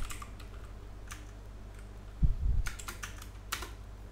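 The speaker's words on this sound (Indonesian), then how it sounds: "untuk merunnya cukup ketik Python pengenalan" Several sparse, quiet keystrokes on a computer keyboard as a command is typed, separated by pauses, with a brief low thump midway over a steady low hum.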